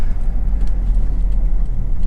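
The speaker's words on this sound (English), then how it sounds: "It's a 3-litre turbocharged, intercooled pickup truck with hard top on the back." Isuzu Rodeo Denver LE 3.0-litre turbocharged, intercooled diesel crew-cab pickup with a hard top, driving with a steady, loud low rumble and road noise throughout, no voices.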